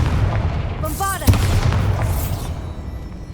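A whooshing cast rises into a sharp Bombarda blast in Hogwarts Legacy, a single loud explosive boom followed by rumbling debris that gradually dies away.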